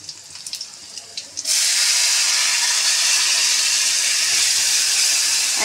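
Dal lentils tipped into a pan of fried onion and garlic erupt into a loud, steady sizzling hiss that starts abruptly after a brief quieter moment and carries on unbroken to the end.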